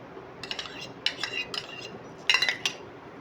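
Beaten egg being mixed with coriander powder, salt and Kashmiri chilli in a bowl, heard as a few separate bursts of utensil clinks and scrapes against the bowl, close and fairly quiet with short pauses between.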